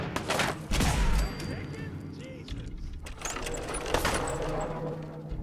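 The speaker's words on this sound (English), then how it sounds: "Who else is shooting at me?" Gunfire in the post-apocalyptic shooter Fallout 4: several sharp shots, some close and loud, others more distant, scattered over a few seconds amid a noisy background with a voice talking in between.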